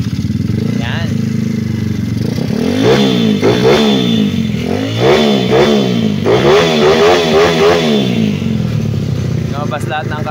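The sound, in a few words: motorcycle engine revving, 132cc 54mm block sound check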